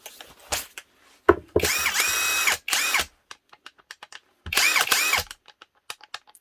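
A cheap AliExpress knock-off of a Milwaukee impact wrench fires in two loud, close hammering bursts of about a second each. Short mechanical clicks and taps fill the gaps between them.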